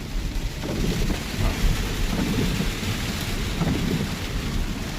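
Rain during a car trip, a dense steady hiss of rain drumming on the car with a low rolling rumble beneath, constant and fairly loud with no talk.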